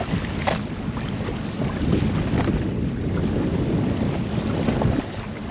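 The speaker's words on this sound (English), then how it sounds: "Show you the waves we got going on." Choppy waves on Florida water slapping around a boat ahead of a tropical storm, a steady close wash with gusting wind buffeting the microphone throughout.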